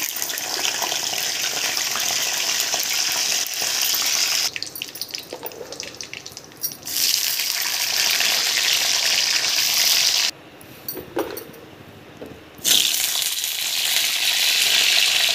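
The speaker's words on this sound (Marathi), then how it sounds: "फ्लावर थोडं जास्त वेळ तळायचं।" Cauliflower florets sizzle steadily in hot oil during a paneer mixed-vegetable dish, a loud, dense crackle that drops briefly twice, as if the pan were stirred, then swells back.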